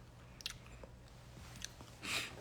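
Roasted peanuts being chewed up close, a few soft crunchy bites scattered through a quiet indoor stretch with a low steady hum beneath.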